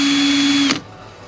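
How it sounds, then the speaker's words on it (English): A power drill bores a pilot hole through the wall of a tiny house during window trim installation, a steady high whine close by that cuts off abruptly after about three quarters of a second. "I'm just putting a little bit of a pilot hole through the house"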